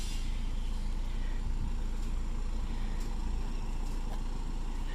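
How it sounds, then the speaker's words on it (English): BMW Z4 four-cylinder twin-turbo engine running, a steady low rumble and hum that holds constant throughout, moderately loud with no speech. "4-cylinder twin turbo engine."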